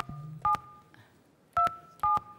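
Telephone dialing tones for a call to a Neuquén number, beeping one after another as distinct clear tones with short pauses between them, heard close in an otherwise quiet room.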